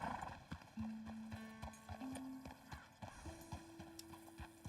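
Horse hooves clip-clopping in a video game, a steady, fairly close rhythmic clopping with brief whinny-like tones and faint background game sounds, fairly quiet overall.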